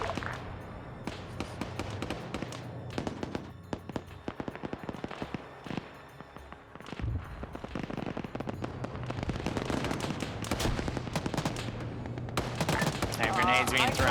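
Explosions and gunfire crackle in the Builders video game, a dense run of sharp bangs and pops from rockets and grenades going off, some near and loud, others overlapping in rapid bursts across the whole stretch.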